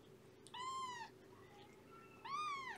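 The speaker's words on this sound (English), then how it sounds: "And Tabby out there in the hallway meowing." Two drawn-out cat meows, a short pause between them, fairly close and clear over a low steady background hum.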